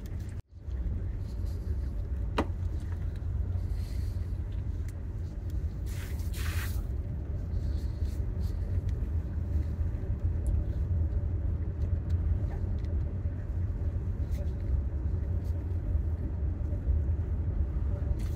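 Tesla Model Y creeping slowly along a narrow coastal trail in Scotland, a steady low road rumble and tyre noise held at constant level throughout, with a brief sharper hiss partway through.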